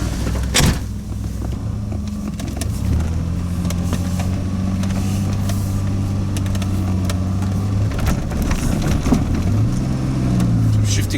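A DeLorean on a test drive: an engine hums and rises through gears with shifts, cabin noise, some clicks and knocks, and faint talk in the background.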